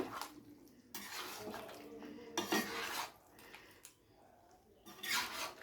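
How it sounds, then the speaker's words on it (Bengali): Chicken being stirred with cumin powder in a pan gives bursts of metal utensil scraping and clanking against cookware, separated by brief quiet gaps, close and fairly soft. "চিকেনের মধ্যে জিরে গুঁড়োটা দিয়ে খুব ভালো করে মিশিয়ে দেবো"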